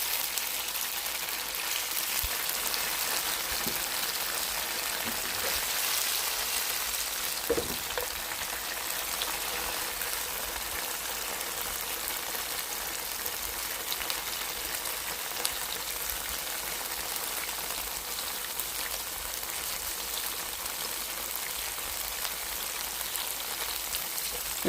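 Tofu fries in a pan with a steady, rain-like sizzle that runs throughout, with a few soft clicks and pops from the pan.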